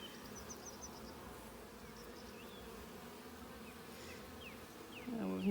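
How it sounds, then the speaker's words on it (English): Honey bees at an open hive in a Ballachulish apiary drone in a steady, faint, close-up buzz that continues throughout, with a brief soft knock near the end. "If I just brush these bees off"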